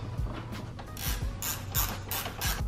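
Repeated ratcheting clicks from tightening a stainless bolt with a 5mm Allen wrench while fitting a cold air intake on a Cummins engine, close and fairly quiet, with no talk.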